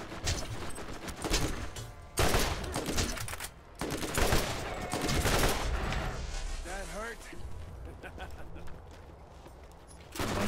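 Rapid bursts of weapon fire from the Borderlands 1 video game crackle in quick volleys and repeated shots, loud and close, with brief gaps between salvos and game effects mixed in.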